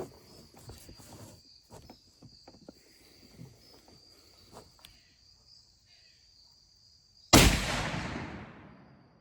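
A muzzleloader fires at a pumpkin from about 20 yards outdoors, one loud sharp blast that rings out and fades over a second or two, after a quiet stretch filled with steady insect chirping and faint movement.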